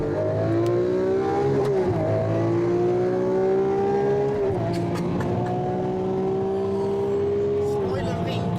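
A Lamborghini race car in a video game runs at full throttle, its engine note climbing steadily and dropping at each upshift, repeated about three times as a loud, continuous synthetic roar.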